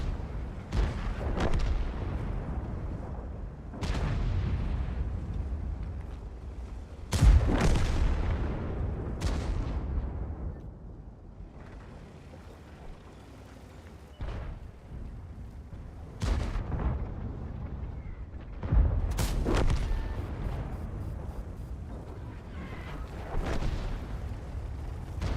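Tank cannon fire and explosions in World of Tanks, heard as loud separate booms with long decaying rumbles, spaced every few seconds across a quieter battle background.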